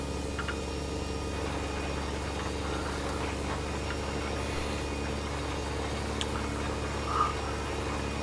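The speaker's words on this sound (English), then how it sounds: "I think the reverse gear is giving us problems on this particular tractor" An old farm tractor engine idles steadily nearby with a low, even mechanical drone and vibration, alone and with no talk over it.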